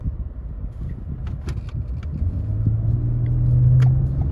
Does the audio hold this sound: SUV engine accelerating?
yes